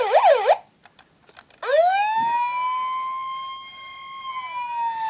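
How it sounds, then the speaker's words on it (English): A toy fire truck siren from a 2000 Hess fire truck warbles rapidly, then a few clicks, then a long electronic wail that rises and holds steady, loud and close. "Then you can do the sirens."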